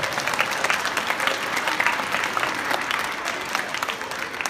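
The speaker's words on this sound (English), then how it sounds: "Everybody give them a round of applause." A crowd claps steadily and evenly for several seconds, a dense wash of applause with no talking over it.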